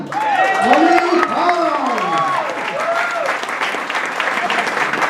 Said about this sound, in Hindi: आपकी भरपूर तालियों में इस्तकबाल कीजिए